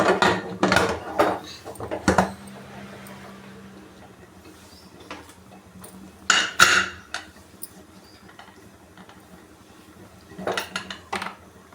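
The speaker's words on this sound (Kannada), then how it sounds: "ಕುಕ್ಕರ್ ಕ್ಲೋಸ್ ಮಾಡ್ತಾಯಿದ್ದೀನಿ" Pressure cooker lid being closed on a pot of upma, giving several sharp metallic clanks and scrapes in clusters with quiet gaps between, close and alone.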